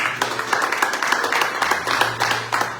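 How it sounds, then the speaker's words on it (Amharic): A church congregation claps in unison for members at a live-streamed Pentecostal service in Rome, a steady run of sharp, fairly quick claps that fills the room alone. "አጨብጭቡላቸው"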